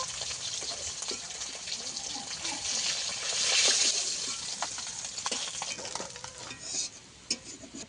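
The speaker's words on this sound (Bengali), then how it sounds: "মাছগুলো ভেজে নেব।" Pieces of fresh pond fish frying in hot oil, a bubbling sizzle with frequent stirring and turning clatters, swelling louder in the middle before easing off.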